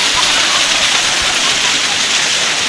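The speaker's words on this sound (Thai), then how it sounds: "น้ำตกสวยมาก" A newly found waterfall near Kengtung with cold, clear water roars steadily and loudly up close as a dense, unbroken rush of falling water.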